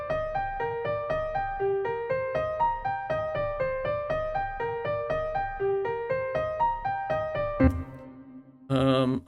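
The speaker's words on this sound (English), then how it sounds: "I have this repeating piano piece" A repeating piano figure plays a steady, evenly pulsed run of notes over a low bass for about eight seconds, then breaks off with a short cymbal-like burst at the end.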